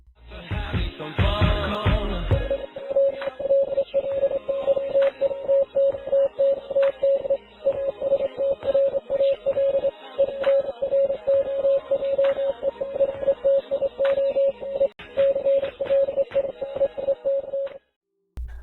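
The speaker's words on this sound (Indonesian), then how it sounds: "ada sekumpulan kode Morse tersembunyi yang terdengar samar" A steady beeping tone pulses in short and long bursts, like Morse code, running beneath dense, crackly radio-style noise for most of the clip.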